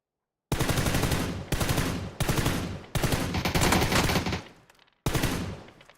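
Bursts of automatic gunfire from the PUBG battle royale game come loud and close: five sharp rattling volleys separated by brief gaps, the fourth trailing off before a final burst, with no talking.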